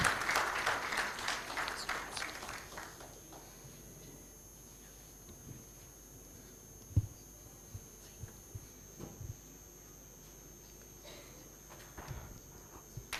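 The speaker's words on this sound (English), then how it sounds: "A round of applause." Applause from an audience at a memorial oration, fairly loud clapping at first that fades out within a few seconds, leaving a quiet room with scattered soft knocks and thuds.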